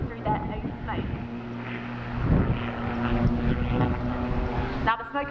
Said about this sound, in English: This is blades 1 and 4 as they hang the aircraft on its propeller before actually falling backwards through their own smoke.